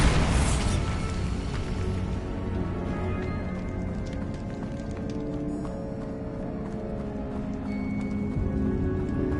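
A booming blast from the Bombarda explosion spell in the video game Hogwarts Legacy, one loud burst at the start that fades into a rumbling, busy wash of battle noise.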